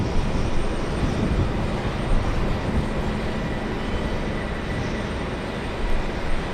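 A British Airways jet, Speedbird 113 from Heathrow, arrives on runway 22 left at JFK, heard as a steady broadband engine rumble at moderate distance with no talk over it.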